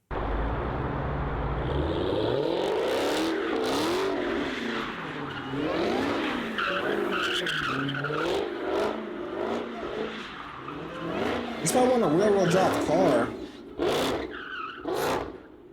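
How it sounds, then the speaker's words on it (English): A 1200-horsepower Dodge Hellcat Redeye sliding, with a roaring engine surging and fading as tires squeal and skid in repeated bursts, heard from outside at moderate distance, while a voice briefly talks over it. "We finna slide the 1200 horsepower with Hellcat Red Eye"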